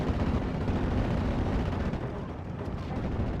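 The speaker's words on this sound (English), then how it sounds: "We got another airstrike coming on in, a Focke-Wulf 190 with a bombing run" Bombing-run explosions from a Focke-Wulf 190 airstrike in a World War II strategy video game, a dense continuous low rumble of blasts that stays loud and unbroken throughout.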